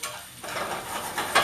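Brussels sprouts sizzling in a pan, a brief loud hiss of frying with a stirring scrape and a brighter crackle at the end.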